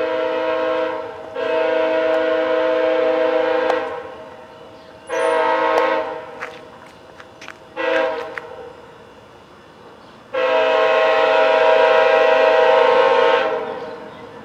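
A VIA passenger train sounds its horn at a crossing: four loud, sustained blasts, two long, one short and a final long one, with quieter rail rumble in the gaps.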